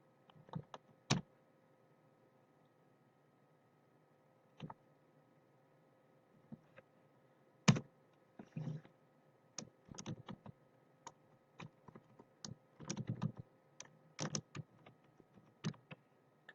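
Someone types a Gmail ID on a computer keyboard, producing sparse, irregular key clicks close by, single taps followed by denser bursts near the end, with a faint steady hum underneath and no talking.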